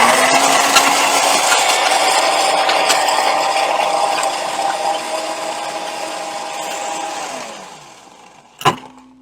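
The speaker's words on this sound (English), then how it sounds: "Take this over to the spindle blender." A spindle blender mixing a tiki cocktail with crushed ice, a loud, steady motor whir with rattling ice that runs for several seconds, winds down to a stop, then a single sharp clack at the end.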